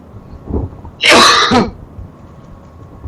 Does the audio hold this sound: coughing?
yes